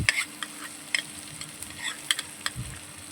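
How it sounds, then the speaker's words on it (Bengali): A cashew, mustard and poppy seed paste is stir-fried into spice masala for a prawn malaikari. A quiet, low sizzle runs under irregular scraping stirs and soft clicks of the spoon against the pan. "ভালো করে কষিয়ে নেওয়ার পরে আমি যে আগে থেকে পেস্টটা বানিয়ে রেখেছিলাম কাজু, সর্ষে আর পোস্তর, ওই পেস্টটা আমি ওর মধ্যে অ্যাড করে দেব।"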